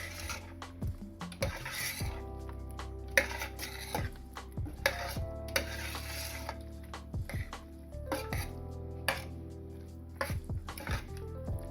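A spoon stirring pork and carrot curry in a cooking pot, with repeated light clinks and scrapes against the metal at an irregular rhythm over a steady low background hum.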